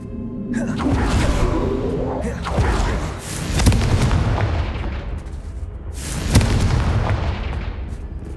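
Explosive Confringo spell blasts in the Hogwarts Legacy video game, with several loud booming bursts and rumbling decay in close succession, and brief voice sounds mixed in.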